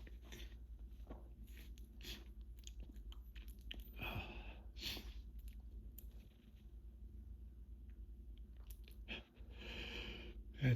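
Chewing close to the mic: wet, irregular mouth clicks and crunches repeating through the stretch, quiet overall, with soft breaths between bites and no talking.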